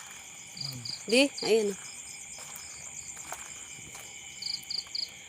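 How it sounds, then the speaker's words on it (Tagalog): Crickets chirp steadily in the dark outdoors, a high pulsing trill in short repeated bursts at the start and end, while people speak briefly in the foreground. "Anong tawag doon? Kuliglig."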